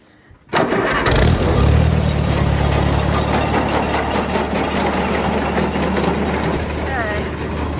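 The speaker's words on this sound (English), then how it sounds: "Here we go. Tractor on." A tractor engine, used during a corn harvest, cranks and catches after a brief quiet moment, revs up loudly, then settles into a steady, throbbing idle close by.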